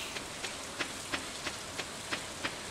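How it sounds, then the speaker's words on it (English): Steady in-game rain from Stardew Valley, a soft continuous hiss with faint regular drip ticks roughly every third of a second, quiet and alone with no talk. "And it's raining, so we're going to take advantage."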